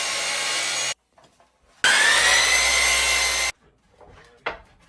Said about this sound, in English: First thing we're gonna do is cut 24-inch pieces.